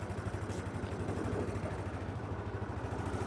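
A car engine running on ethanol idles in a steady, even low rumble with a regular pulsing beat, close by and alone with no talk over it.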